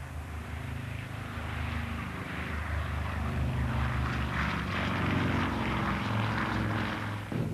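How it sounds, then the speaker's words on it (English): A B-29 bomber's propeller engines roar at takeoff from the Mariana Islands in 1945, a deep, sustained, fairly loud drone that swells slightly midway. "a B-29 named Enola Gay, after the captain's mother, took off from the Mariana Islands"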